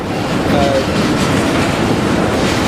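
Steady rumbling and clanking of railcars, tankers being switched, moving along the track nearby, with a faint metallic squeal early on and no break in the noise.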